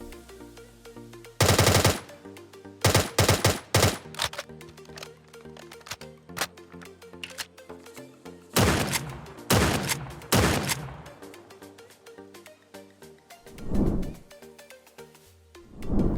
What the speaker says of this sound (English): I'll show you a brief gameplay of me inspecting and reloading some of the guns